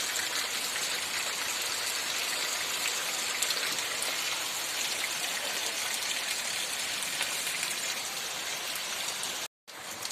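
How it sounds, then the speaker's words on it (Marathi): Heavy rain pours down steadily in a dense, even hiss, close and loud, with no voices, cutting out for a moment near the end. "कसा पावसाचा जोर आहे बघा"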